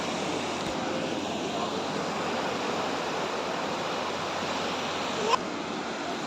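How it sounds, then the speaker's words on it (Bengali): Sea waves break on the beach at Digha, heard as a loud, continuous roar of surf. A brief thump of handling noise sounds near the end, and there is no clear talking. "এই দেখুন যেতে যেতে না যেতে আবার চলে আসছে ঢেউ।"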